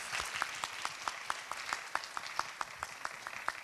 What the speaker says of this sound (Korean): 형제 자매님 분들께 네, 수고했다고 박수 보내주세요.